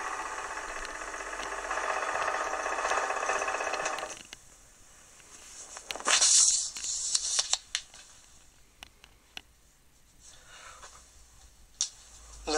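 A small homemade milling machine runs with a steady broadband whir for about four seconds, then stops, leaving scattered clicks, ticks and handling knocks with a brief louder clatter.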